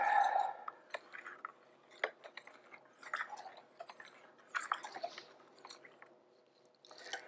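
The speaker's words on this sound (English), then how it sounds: "It's not all dissolved, so I will continue to stir it here." A spoon stirring a solution to dissolve it for cyanotype toning, faint irregular clinks and light taps against the container, close and quiet with pauses between strokes.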